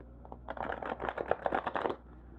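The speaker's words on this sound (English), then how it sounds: "This is a little stiff to start off shuffling when you first get it" A new, stiff tarot card deck is shuffled by hand, giving a close, rapid series of papery riffling clicks for about a second and a half, with no talking.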